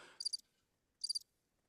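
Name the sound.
crickets chirping sound effect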